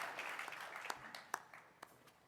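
Light applause from an audience at a business hall of fame event, a thin, fairly distant patter of claps with a few sharper individual claps standing out.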